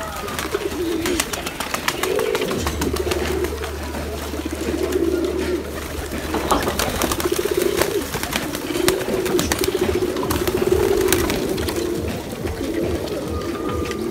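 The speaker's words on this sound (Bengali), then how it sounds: "দেখুন আপনারা এই কবুতরে এই রাবিশ খাচ্ছে।" Pigeons at a pigeon farm coo steadily while feeding, a soft, continuous chorus of overlapping calls close by, over a low background hum.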